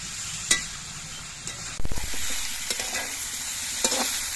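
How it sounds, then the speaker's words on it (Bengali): Steady sizzling of mixed vegetables frying in a pan, close and continuous, with occasional scrapes and clinks from stirring. "সবজিগুলো বেশ কিছুক্ষণ নাড়াচাড়া করে রান্না করে নিয়ে দেখুন ভেজে নিয়েছি"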